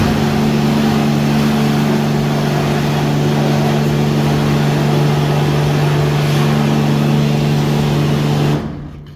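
A Purasolve high pressure parts washer running its wash-down nozzle in a workshop, a loud steady pump hum with hissing spray that cuts off abruptly near the end.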